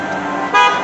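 A bus horn sounds at a transit station, one short blast that swells suddenly over steady idling traffic noise and holds for a moment.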